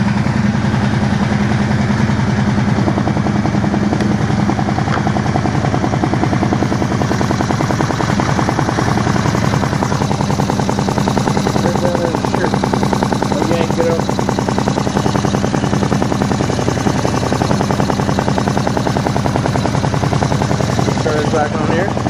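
Steady engine idle and revving in a garage with the air-intake lid fitted back on over a snorkel setup, a continuous loud mid-pitched drone running the whole time under a speaking voice.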